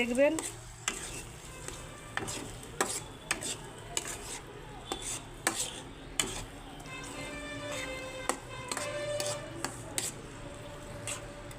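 Washed red lentils tipped into a pan of frying masala in oil, giving a steady sizzle under repeated sharp clinks and scrapes of a spoon against the pot.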